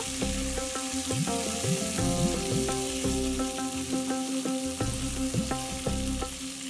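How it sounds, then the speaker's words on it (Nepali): Boiled amla frying in a pan for pickle makes a steady close sizzle. Repeated metallic scrapes and clinks of a spoon stirring run throughout, with no voices. "अब यसमा राखेँ उसिनेको अमला र यसलाई एकैछिन चलाउनु पर्छ"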